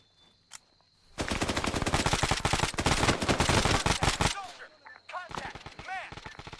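Sustained automatic gunfire in the Arma 3 military shooter, a dense burst of rapid shots running several seconds, preceded by a single shot and followed by scattered bursts, with voices talking faintly between volleys.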